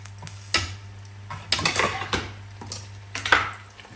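Food being fried and stirred in a pan, with irregular scrapes and clinks of a spoon against metal over a low sizzle and a steady hum underneath, no voices.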